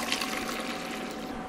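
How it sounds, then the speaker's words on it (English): A liter of vegetable stock pours steadily into a pan of thick, reduced veggie ramen base, a continuous close splashing wash of liquid without a break. "And now we're going to add in a liter of vegetable stock."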